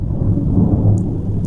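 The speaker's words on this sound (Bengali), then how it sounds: "কিভাবে বিদ্যুৎ চমকাচ্ছে, ও মাই গড।" Thunder rolls during a lightning storm, a deep, loud, sustained rumble filling the whole moment with no voices over it.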